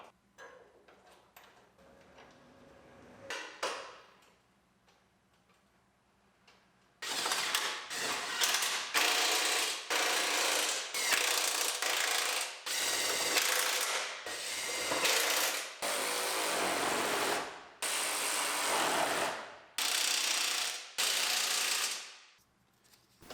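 Bolts being run back into a used bumper on a 2015 Chevrolet Silverado LTZ with a ratchet, a long series of loud, close ratcheting bursts after a quieter stretch of workshop handling.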